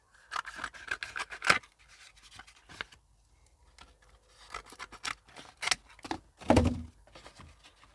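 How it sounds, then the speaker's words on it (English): Scissors cut through a piece of cardboard for an egg carton seed tray, with close snips, scraping and rustling of the cardboard in uneven bursts and a louder cut near the end. "let's cut us a bit of cardboard."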